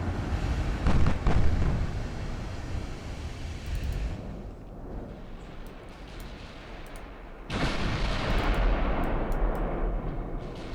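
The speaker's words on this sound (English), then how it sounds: "We're about to take out our first transport with the 8-inch guns." Naval 8-inch guns in the warship game Ultimate Admiral: Dreadnoughts firing at a transport: heavy booming blasts and a low rumbling roar, with a loud burst near the start and another surge of roaring noise later.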